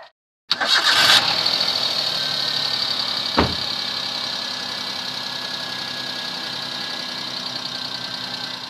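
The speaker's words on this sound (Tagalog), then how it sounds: "Start na natin ang makina." A car engine with a rusty cooling system cranks and starts with a sharp burst, then settles into a steady, loud idle that runs on with a constant high whine, heard close during a coolant flush with no talk.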